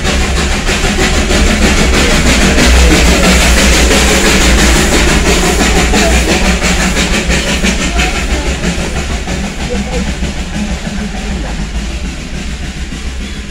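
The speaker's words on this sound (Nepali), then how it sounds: "दार्जिलिङ त सुकुसुकै रेलको भिडियो बनाएर लैजाउँ भनेको त कताको हो?" A Darjeeling hill train passes close by, its wagons rumbling with a steady clickety-clack that stays loud and continuous throughout, easing off only slightly toward the end.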